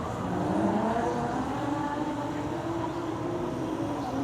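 Two Nissan Z cars drift in tandem at Five Flags Speedway, their engines rising and falling in a sustained, moderately distant roar with overlapping revving tones.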